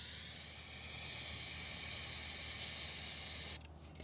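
An aerosol spray can hisses in one steady, continuous blast for about three and a half seconds onto brake fluid spilled while fitting steel braided brake lines on a Rebel 1100 motorcycle, then cuts off abruptly.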